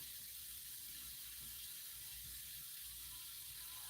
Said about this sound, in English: I'm filling up your water bowl for you.